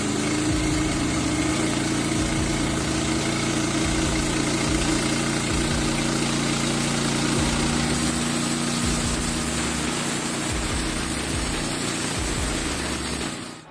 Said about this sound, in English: The Norwood Lumbermate LM29 is a portable sawmill ideal for woodworking enthusiasts.